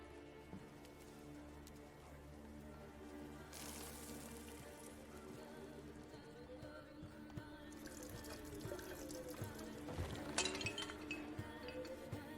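A bowl breaks in The Witcher 3 with a sharp clink of shattering crockery over quiet game ambience and a music bed.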